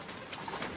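A pigeon coos softly nearby, a brief low throaty murmur with no other sounds around it.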